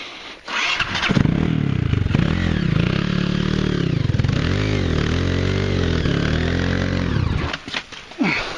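A motorcycle engine fires up and revs loudly and steadily for several seconds, stuck in mud on an off-road trail at Paranapiacaba, with sputtering at the start and end.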